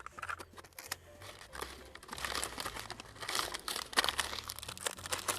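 A radish is wrapped in newspaper and sealed with tape, giving steady, close crinkling and crumpling of paper with short tearing and rustling bursts throughout, no voices.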